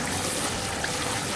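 Water splashes steadily into a bowl during vegetable cooking, a close, continuous pour with a bright trickling hiss for the whole short moment and no voices over it.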